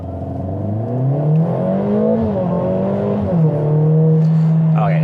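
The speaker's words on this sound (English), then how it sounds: "you saw the hesitation, you saw the turbo spool up, and there's just a bit of a delay there" A 2021 Mercedes-AMG GLA 45 in comfort mode gets a kick-down, its turbo engine spooling up after a slight delay and droning loudly as revs climb and level off, close and steady without talk.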